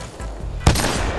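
A single sharp, loud gunshot fired in the video game Titanfall 2, cutting through a low background hum.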